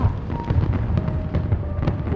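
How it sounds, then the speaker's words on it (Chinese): Fireworks set off at a nighttime celebration alongside a drone light display pop in several sharp bursts over a dull, rumbling background. "谁在放烟花？"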